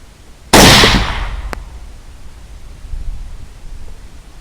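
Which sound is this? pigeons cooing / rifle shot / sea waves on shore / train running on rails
rifle shot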